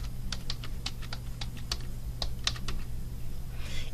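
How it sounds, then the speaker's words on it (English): Someone typing an answer on a computer keyboard, with quick irregular key clicks close by and fairly quiet over a low steady hum, ending with a faint rustle. "So all I need to do is go ahead and click here and go ahead and type my answer."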